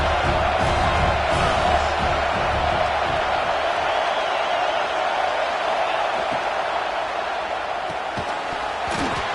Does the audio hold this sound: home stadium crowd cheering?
yes